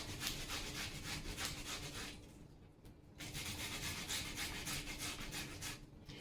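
Onions are grated on a small hand grater, a fast rhythmic rasping scrape in repeated strokes with a brief pause midway, close and quiet, with no talk.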